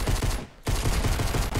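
Pistol gunfire in a video game, heard as a dense, loud burst of rapid shots that breaks off for a moment and then resumes, with no talking.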